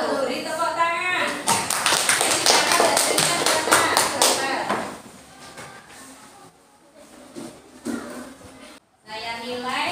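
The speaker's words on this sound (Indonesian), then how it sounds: "Beri tepuk tangan." Applause in a classroom, a burst of many hands clapping that fades into scattered claps, with voices talking before and after.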